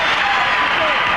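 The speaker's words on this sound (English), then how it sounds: "I think the crowd is cheering here for the Bulls right now, and the Pistons as they leave the court." A packed basketball arena crowd cheers and applauds as the Detroit Pistons walk off the court. It is a dense, loud roar of clapping and shouting that holds steady the whole time, with a voice audible over it.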